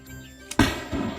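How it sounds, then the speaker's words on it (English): A single sharp gunshot cracks out in an animated nature story, a sudden loud bang that rings on with a rumbling tail. "Oh, what was that? Sounded like a gunshot."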